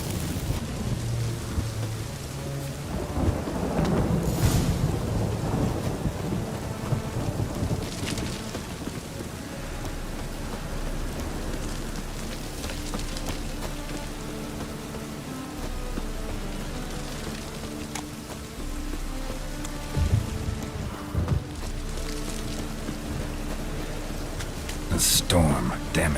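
Steady rain and rumbling thunder from a storm in The Witcher 3 fill the clip as a dense, continuous wash, with a few louder thunder swells and cracks rising above the downpour.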